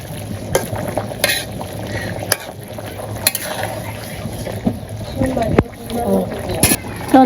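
Fish sizzling as it goes into a hot pan in a simple village kitchen, a steady frying hiss with stirring scrapes and clinks, while someone talks over it.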